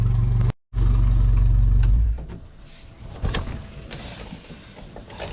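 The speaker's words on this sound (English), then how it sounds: "we're going on about 20 minutes with the motor" A runabout boat's outboard motor runs with a loud, steady low drone, briefly cuts out, roars again, then shuts off and leaves quieter clatter and rustling.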